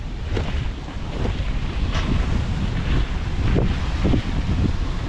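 Wind-driven sailboat sailing solo off Catalina Island, pushing through four-foot ocean swells, with a loud continuous rush of wind buffeting the microphone and surging water washing along the hull.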